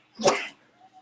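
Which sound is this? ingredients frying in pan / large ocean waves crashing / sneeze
sneeze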